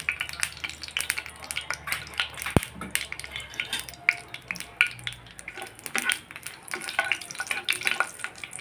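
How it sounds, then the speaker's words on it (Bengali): Bay leaves, dried red chillies, cinnamon, cardamom, black pepper and cloves fry in a pan, giving a soft sizzle under repeated scraping and clinking stirs of a spoon, faint and close. "আমি একটু ভালোভাবে ভেজে নিব"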